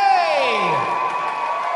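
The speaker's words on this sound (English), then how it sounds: "A big round of applause" A crowd cheers and whoops loudly at an awards ceremony, with a rising whistle-like tone over sustained noise, the applause and cheering continuing throughout.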